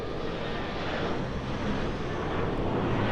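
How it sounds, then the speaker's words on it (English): A United Airlines Embraer E175 jet arrives at Los Angeles airport at sunset, a brief steady broadband engine roar with no pauses. "Embraer E175 coming in from Haydyn."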